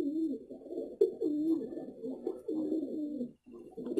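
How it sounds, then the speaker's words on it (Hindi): A Kalsira pigeon coos softly and repeatedly, low rolling calls in a steady rhythm, close by with little else around. "कितना अच्छा कबूतर है।"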